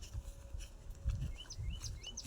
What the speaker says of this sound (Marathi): चिमण्यांचा आवाज